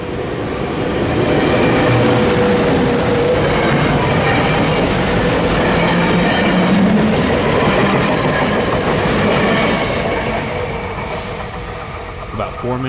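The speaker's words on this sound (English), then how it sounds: "SEPTA train 2518 arrives for its Norwood station stop with a quartet of Silverliner 4s" A quartet of SEPTA Silverliner 4 electric railcars pulls into Norwood station heading north toward Doylestown, Pennsylvania, with a steady, close rolling rumble, wheel clatter and a brief high squeal early on.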